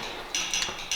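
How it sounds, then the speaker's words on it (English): A telegraph sounder in a historic fort's telegraph office clicks out Morse code, three or four short metallic clacks in a brief irregular pattern over a steady background hiss. "That's what that noise is. That's the Morse code."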